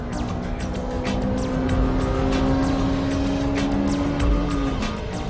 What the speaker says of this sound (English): I can approach this hairpin at full throttle.